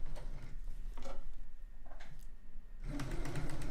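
Short bursts of a sewing machine stitching a quilt block during a sew-along, quiet mechanical whirring and ticking that starts and stops, with a louder run at the end and no talking.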